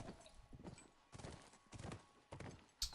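Video game horse hooves clip-clop in an uneven walking rhythm, close and moderately quiet, ending with a brief sharp click.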